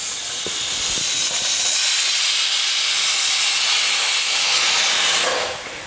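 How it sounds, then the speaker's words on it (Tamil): A pressure cooker cooking bitter gourd curry in a home kitchen lets out a loud, steady steam whistle, a continuous hiss lasting several seconds before tapering off at the end. "மூணாவது விசில் வந்துடுச்சு."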